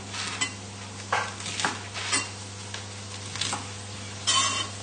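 A knife cuts the crusts off lightly toasted white bread, giving a few separate scraping crunches over a steady low hum.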